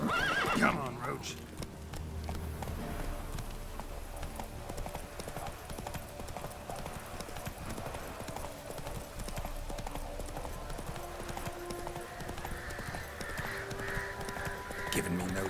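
The horse Roach gallops in The Witcher 3 video game, a steady rapid clip-clop of hooves with a neigh near the start, under continuous game sound and talk.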